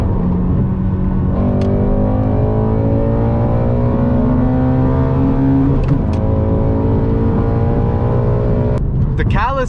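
A Ford Mustang GT350 with catless midpipes accelerating hard through the gears, its loud engine note climbing steadily with quick drops at the shifts, close and continuous throughout.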